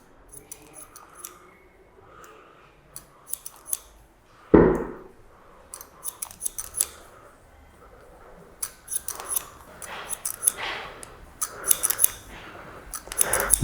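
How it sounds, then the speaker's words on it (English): Scissors snip through hair during a men's 90s-style haircut near the crown, producing a series of light, close, crisp cuts in irregular bursts, with one louder knock partway through. "So I'm going to slide in a little bit below the crown, lift it up and cut."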